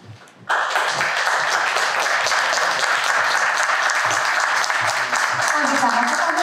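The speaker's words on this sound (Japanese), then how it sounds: "皆様のお近くを通られますので、どうぞ受賞者の皆様を拍手でお送りいただきたいと思います。" A large audience at a literary award ceremony breaks into sustained applause for departing award winners after a brief quiet moment, the clapping continuing evenly and loudly to the end.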